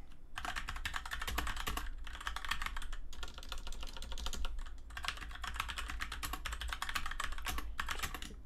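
Code being typed on a computer keyboard while debugging in NetBeans: rapid, steady keystrokes in long continuous bursts with brief pauses, close and clear, with no speech.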